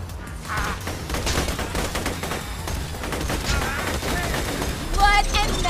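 Rapid gunfire in the video game Borderlands 2, dense bursts of shots running steadily throughout with a brief louder flurry near the end.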